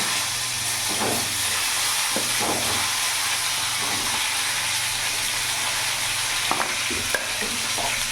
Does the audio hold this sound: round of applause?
no